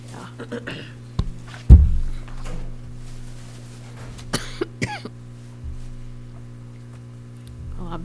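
A person coughs during a township meeting in a room with a steady electrical hum: one sharp, loud cough stands out, followed by a few fainter throat sounds and quiet movement.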